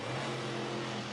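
The Grave Digger monster truck's big engine roars steadily at high revs while spinning donuts on an arena floor at the Alamodome in San Antonio during a 2007 Monster Jam freestyle run, loud and continuous.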